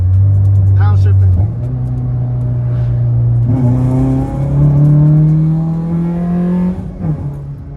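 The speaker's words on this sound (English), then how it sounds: "Downshifting." Honda Civic 8th gen engine droning loud and close, its pitch climbing, dropping and climbing again as the car downshifts and revs, with a voice briefly over it.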